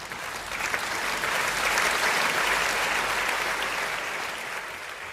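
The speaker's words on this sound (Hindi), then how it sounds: "आप ताली बजा दीजिए" Steady, dense audience applause at a Hindi kavi sammelan poetry gathering, a broad crowd of clapping that swells slightly and holds for several seconds before easing off.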